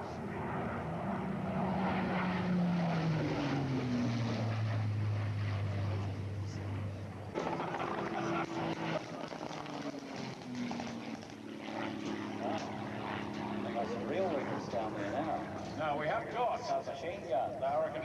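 A Merlin-engined warbird aircraft flies past at the 2004 Warbirds Over Wanaka air show, its loud engine drone falling in pitch as it passes, while a voice talks over it throughout.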